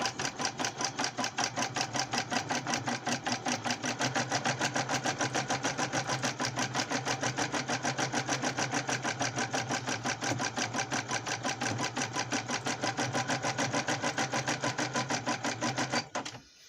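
Janome embroidery machine stitching a design, a fast, steady mechanical needle rattle running evenly and close for the whole stretch before stopping abruptly at the end.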